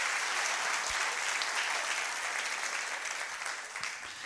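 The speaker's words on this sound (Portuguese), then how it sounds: "Você pode aplaudir ao Senhor com alegria por isso?" A church congregation applauding during a Portuguese-language sermon, a broad steady wash of clapping from many hands filling the room, continuous and fairly loud throughout.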